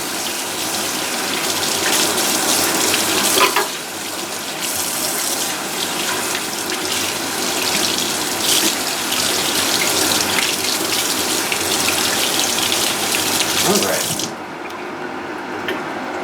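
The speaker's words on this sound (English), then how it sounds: "you want to rinse your container pretty good, because you don't want any buttermilk hanging out left over" Tap water running into a mason jar butter container to rinse out leftover buttermilk, a steady, close splashing stream with brief shifts as the container is moved, ending as the flow stops.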